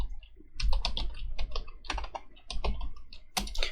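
Someone types a command on a computer keyboard while setting up a Python Django project's virtual environment. The keystrokes are close, quick and irregular, with no voice over them.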